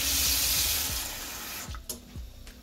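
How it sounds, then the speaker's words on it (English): Cold water poured into tempura flour batter for shrimp tempura, a steady close hiss of running liquid that thins out and stops partway, followed by a few soft knocks. "We'll add cold water."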